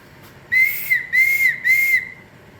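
Three shrill, piercing blasts from a wooden eagle whistle in a steady rhythm, close and loud, each held about half a second.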